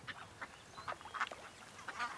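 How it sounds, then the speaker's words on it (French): Common shelducks call in a salt marsh on the Île de Ré, a breeding pair giving a string of short nasal quacks and honks at irregular intervals, fairly faint against quiet open-air background. "Les Tadornes, ces canards migrateurs qui nichent au printemps, sont emblématiques de l'île de Ré."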